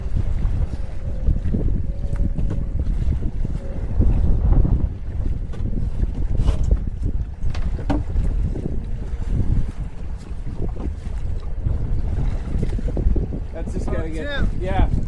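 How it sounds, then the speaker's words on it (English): Strong coastal wind whips and buffets the microphone in Cohasset, Massachusetts, during a capsized boat recovery, a steady loud roaring rush with gusty low-end rumble and brief splashy bursts, with voices faintly beneath. "You can really hear the wind whipping"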